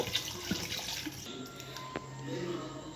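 Water, one litre, poured into a cooking pot of homemade Lahori mutton nihari, a steady running splash lasting a few seconds, close and moderately loud with some kitchen background noise.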